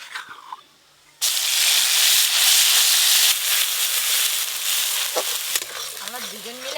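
Ground spice paste dropped into hot mustard oil for a fish curry, bursting into a loud, sustained sizzle and hiss after a brief quiet start, with faint stirring scrapes near the end.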